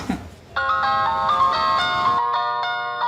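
A mobile phone ringtone plays as a bright, repeating electronic melody with steady tones. A short voice sounds before it starts, and the ringing keeps going, loud and close, to the end.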